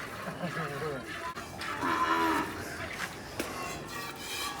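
A cow moos in a cattle shed, a long drawn-out low call rising in the middle of the stretch over steady barn background noise, fairly near with no talk.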